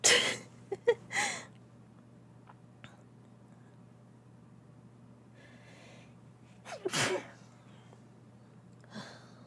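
A sneeze bursts out near the start as a couple of sharp, breathy bursts, followed by quiet room tone, then another loud nasal burst around the middle and a faint breath near the end.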